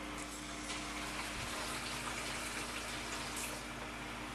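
Water running steadily into a bucket for an ultrasonic humidifier, a constant rushing flow with no talking.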